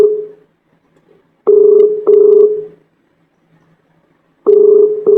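Ringback tone of an outgoing phone call on a live Hindi farmers' talk studio line, heard as three loud, steady repeated tone bursts separated by silence, with no talking.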